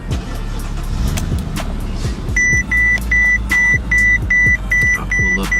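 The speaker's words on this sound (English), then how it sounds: "That beeping is a little bit annoying." A Mercedes-Benz S550 warning chime beeps repeatedly in a steady, evenly spaced rhythm, starting partway through over a low engine hum and background rustling.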